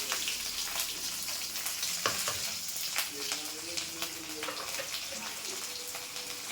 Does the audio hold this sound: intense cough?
no